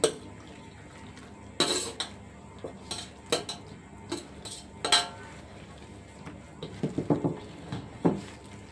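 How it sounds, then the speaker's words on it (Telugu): Andhra-style mango pickle pieces are mixed with oil in a jar, giving close, irregular clinks, taps and wet scrapes of a utensil against the container, with no talking. "ఇప్పుడు మొత్తం కలిపేసుకుందాం"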